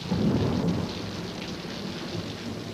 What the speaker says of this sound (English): It's been raining for a week straight.